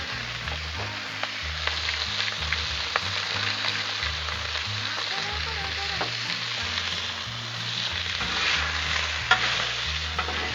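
A thin-shaved ribeye with oil, salt and pepper fries on a Blackstone griddle, giving a steady, close sizzle with scraping and stirring noises throughout, and no talking.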